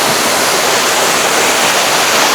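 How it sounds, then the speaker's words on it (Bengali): Waterfall near the Meghalaya border in hilly country, a loud, dense, continuous rush of falling water close by, steady and unbroken with no voices. "এই ঝর্ণার ধারাটি দেখতে পাচ্ছেন"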